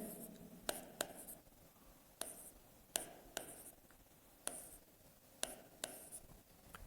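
Chalk or marker writing on a board during a Hindi chemistry lesson on carbon isotopes, heard as quiet scratchy strokes with sharp taps at irregular intervals over faint room noise.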